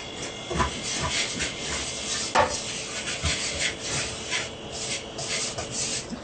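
Salt and flour being mixed together by hand in a home kitchen, a steady dry rubbing and scraping that continues for several seconds, close and moderately loud, with one sharper scrape partway through and no talking.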